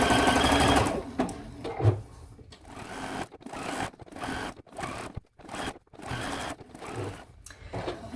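A sewing machine stitches curved seams on a quilt block, running in loud bursts that stop and restart with short pauses between them.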